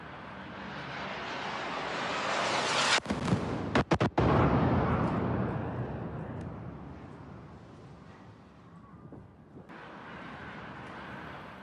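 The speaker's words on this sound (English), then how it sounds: "as you can see, a huge explosion in Dubai" Footage from Dubai near the Fairmont Hotel catches a huge explosion as a loud, sustained roar and rumble, broken by a few sharp cracks, then fading before a second swell of noise.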